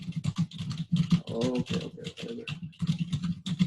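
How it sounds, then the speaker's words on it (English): Steady, close clicking from typing on a computer keyboard continues throughout while someone talks briefly over it. "Keep typing, okay?"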